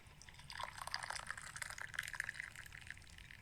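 Tea is poured close up into a cup, a steady gentle trickle of liquid rising in pitch as it fills, soft and intimate with no talking.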